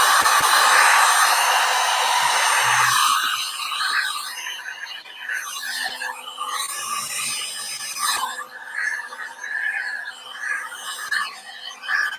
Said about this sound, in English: I'm sort of angling the heat gun to kind of hit where I want it to go.